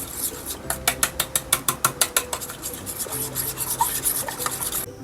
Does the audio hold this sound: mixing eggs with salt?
yes